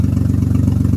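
VW Polo engine idling just after an engine swap, a steady low, even throb with a quick regular pulse, close and fairly loud, heard alone.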